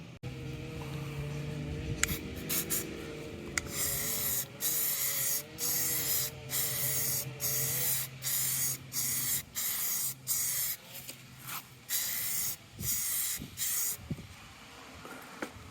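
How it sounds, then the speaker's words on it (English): Short, repeated bursts of spray from a spray paint can as a coat goes onto boat trim, each hissing pass lasting about a second with brief gaps between, close and fairly loud. "we're going to go ahead and put a coat on this end as well"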